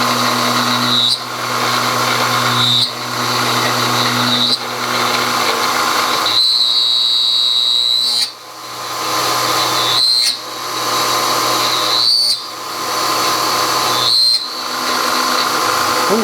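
Machining plunge cuts on an engine cylinder block: a steady whining tool tone holds through repeated cuts, broken by short dips every couple of seconds, loud and close with no talking.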